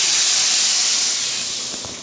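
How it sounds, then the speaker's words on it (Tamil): Hot tempering with onion is poured over vegetable aviyal, producing a loud, close, hissing sizzle that starts at full strength and gradually fades over two seconds. "இந்த மாதிரி தாளித்து நம்ம ஊற்றிடலாம்"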